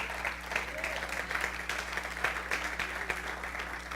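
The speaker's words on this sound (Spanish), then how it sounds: "Dele palmas al Señor," A church congregation claps for the Lord during a sermon, a faint, steady patter of many hands with a low hum underneath.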